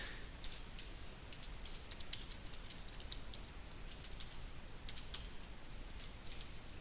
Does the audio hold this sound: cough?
no